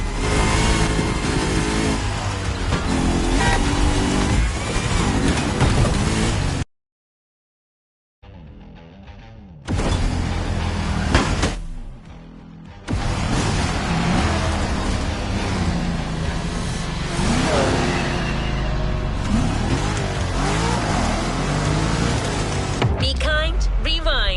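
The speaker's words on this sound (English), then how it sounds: "Now you can let the supercharged V8 do the talking." Supercharged V8 car engine in The Crew Motorfest, loud revving and roaring with rising and falling pitch, cut by a short silent gap and a quieter stretch, with speech at times.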